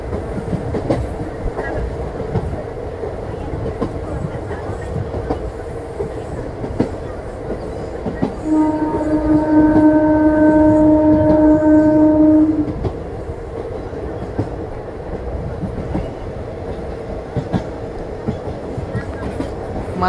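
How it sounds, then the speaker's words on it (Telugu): Express passenger train 17231 on the Narasapur–Vijayawada route, heard from onboard while running at speed: a steady, loud rumble of wheels and carriages throughout, with one sustained horn blast of about four seconds near the middle. "మన ట్రైన్ వచ్చేసి Madhura Nagar halt railway station నుండి అయితే స్కిప్ చేస్తున్నాయి"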